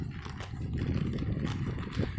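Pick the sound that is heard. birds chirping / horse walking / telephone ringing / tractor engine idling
horse walking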